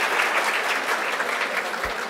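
Steady applause from a conference audience at a pressure injury prevention talk, a dense even wash of many hands clapping throughout, moderately loud and without voices.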